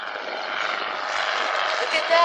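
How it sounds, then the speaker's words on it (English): A helicopter passes overhead with a steady, broad whirring roar that holds constant and swells slightly toward the end, fairly loud and alone. "Look at that, a helicopter."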